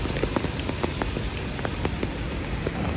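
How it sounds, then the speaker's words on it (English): Rain falls around a downstairs outdoor spot, a steady close hiss of patter with scattered individual drops tapping sharply on nearby surfaces. "it literally wasn't raining when I was upstairs, and now that I'm downstairs it's raining"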